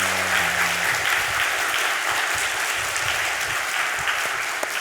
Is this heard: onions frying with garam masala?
no